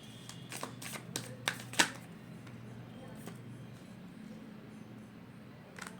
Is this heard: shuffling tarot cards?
yes